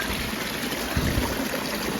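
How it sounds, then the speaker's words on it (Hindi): Steady rushing of cold water flowing over rocks at the top of Neer Waterfall near Rishikesh, a continuous broadband wash heard close by with no voices. "एकदम, यहाँ से ही झरना शुरू हो रहा है मेरे अकॉर्डिंग तो।"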